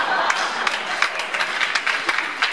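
Audience applause at a KVN music festival in Barnaul: dense, steady clapping from a crowd filling the hall, with a few sharper individual claps standing out, continuous throughout.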